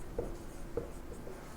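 Pen writing on paper while working a Class 10 probability maths problem, with two quiet scratchy strokes standing out against a faint background hiss and no talking.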